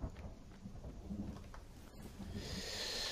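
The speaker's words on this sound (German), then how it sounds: "Ich gehe ins Wasser und es fängt an zu gewittern." Thunderstorm in the survival game The Forest, a low continuous rumble of rolling thunder with steady rain-like hiss building toward the end, no voices.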